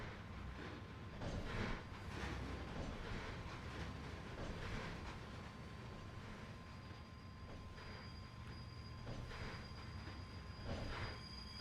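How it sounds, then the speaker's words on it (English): An intermodal freight train rolls through Soldier Summit in the Trainz railroad simulator, a steady heavy rumble of wagons with high, sustained wheel squeal and faint clatter, loud and continuous with no voices. "I hear our intermodal train."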